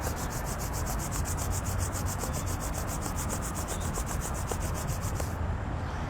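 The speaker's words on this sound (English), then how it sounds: "And then rubbing the palms together again." Palms of the hands rubbed together in a steady, continuous dry friction, close and fairly quiet, with a faint rhythmic swishing, performed as part of a Ba Gua warm-up; no talking.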